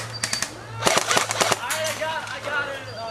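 Airsoft guns firing during an outdoor airsoft game, a cluster of rapid sharp snapping shots in quick bursts up close, with people talking and shouting around them.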